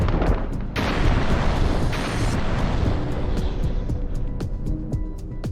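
An anti-tank missile strikes and destroys a Russian tank, with a heavy rumbling blast followed by a run of sharp cracks and repeated bangs at a steady pace, loud and fairly close, with no talking.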